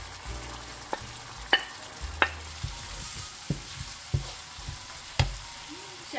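Sauce for skewers, made from leftover plate sauce with coconut milk and water, sizzles softly in a hot pan while a spoon scrapes and taps against it in irregular close strokes.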